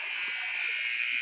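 The end-of-period buzzer at a boys' varsity high school hockey game, Marblehead at Bedford, New Hampshire, sounds as a steady, harsh electronic drone that holds unbroken and moderately loud.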